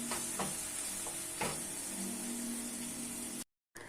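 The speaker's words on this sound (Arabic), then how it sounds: "طبعا ايدي بالتحريك باللبن" Yogurt is stirred in a cooking pot while Aleppo-style labaniyeh with bulgur cooks. A soft, continuous swirling scrape runs close by, with a few light spoon taps, before a brief silence near the end.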